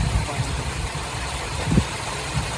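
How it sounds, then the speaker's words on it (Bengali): A motorboat engine drones steadily across a flooded haor wetland, a continuous low rumble heard at moderate distance, with a voice briefly audible. "ওই যে হাওরের উপর যেটা নৌকা যাবেছে"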